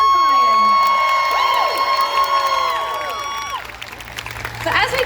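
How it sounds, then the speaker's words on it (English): At a live concert in Nashville, a crowd cheers and whoops for the keyboard player over sustained musical tones that fade out, and the cheering swells again at the end. "Please, everybody give a big round of applause for my keyboard player"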